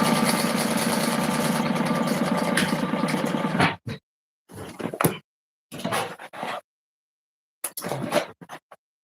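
A sewing machine stitches the sides of a handmade convertible bag, running steadily and loudly for about four seconds, then going quiet except for a few short bursts of nearby handling noise, with no talking.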